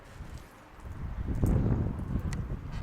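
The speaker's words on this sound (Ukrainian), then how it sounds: "ну бачите, як вітер піднявся" Wind rising into a louder gusty rumble against the microphone, swelling in the middle and easing slightly, with faint rustling.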